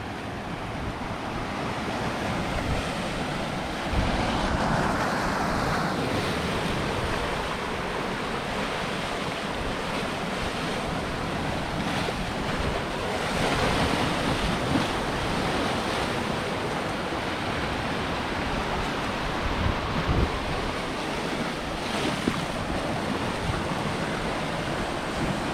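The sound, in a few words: ocean waves splashing on the rocks at Portland Head Light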